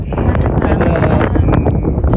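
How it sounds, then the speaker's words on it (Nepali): Strong gusts of wind on an off-road route from Jomsom to Lo Manthang in Upper Mustang, Nepal, buffet the microphone in a dense, roaring rush that stays loud for the whole moment. "एकदम बेसरी हावा लाग्छ यति ठुलो हावा लाग्छ"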